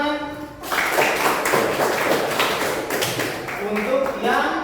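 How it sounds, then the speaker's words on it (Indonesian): A group in an Indonesian teacher-coaching session bursts into clapping after a short spoken lead-in, a lively, fairly close burst of hand claps that carries on with talk mixed in near the end. "Oke, tepuk tangan"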